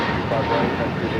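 Boeing 737-800 jet at LAX airport, a broad continuous engine roar heard from a distance with a person talking over it.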